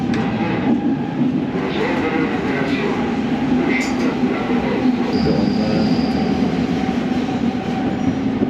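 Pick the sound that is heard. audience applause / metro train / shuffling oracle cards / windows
metro train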